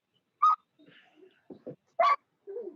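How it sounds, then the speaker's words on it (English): A household dog heard during a county broadband committee meeting call gives a few short, sharp barks and yips spaced apart, with quiet whimpering sounds between them. "That's my dog."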